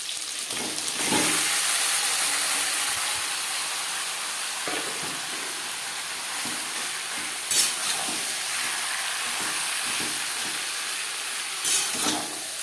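Marinated chicken frying in a small amount of oil over high-to-medium flame for a potato chicken curry, a steady close sizzle with occasional stirring scrapes and brief louder bursts.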